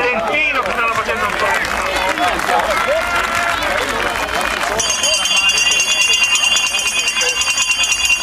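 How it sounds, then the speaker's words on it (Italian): Crowd applause for Povolo and Celentino at an agricultural festival in Cogolo, steady clapping throughout under an announcer's voice, with a bright ringing sound joining in the second half. "facciamo un applauso a Povolo e a Celentino"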